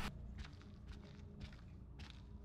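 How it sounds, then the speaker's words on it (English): Quiet footsteps in the horror game Little Hope, about four soft, evenly spaced steps at a walking pace, heard alone at a distance. "I hear footsteps, but I think that's Angela and John."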